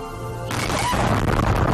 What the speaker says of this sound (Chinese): 哇，楼炸了！